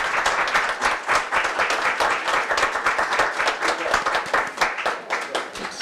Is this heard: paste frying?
no